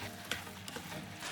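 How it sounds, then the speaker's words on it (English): Pork and sliced green onions stir-fry over high heat with a steady soft sizzle, broken by occasional light scrapes and clicks of stirring, quiet and close with no voices. "add the sliced green onions and continue stir frying over high heat for another 1 minute."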